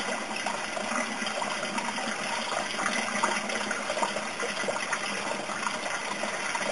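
Steady rushing and gurgling of water draining from an aquaponics grow bed through a bell siphon with a 2-inch standpipe and 3-inch bell, continuous and fairly loud throughout, with no voices.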